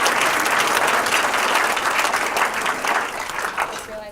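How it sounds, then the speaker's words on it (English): Loud, sustained applause from a crowd at an awards ceremony during the 2018 Iowa State University Water Conference, with the clapping swelling slightly and then fading a little toward the end as a voice comes through. "so keep clapping"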